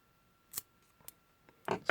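Scissors trimming a section of material for a cardinal fly pattern, a few crisp close snips spaced apart, ending in a quick double cut, with near silence between.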